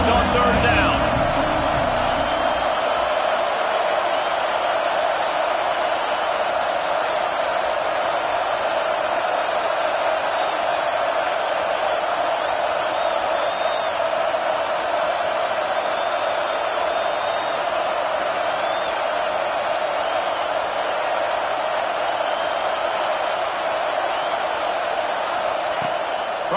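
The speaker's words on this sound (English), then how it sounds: "Decibels rising as the crowd gets behind this defense on 3rd down." Steady, dense stadium crowd roar swelling on third down in a Madden football video game on PS5, a sustained wash of cheering that holds loud and even throughout with no talk over it.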